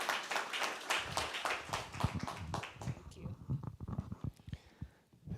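At a convocation, audience applause starts as dense, fairly close rhythmic clapping and then thins into scattered claps and fades, with some speech mixed in.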